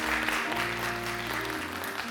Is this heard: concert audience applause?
yes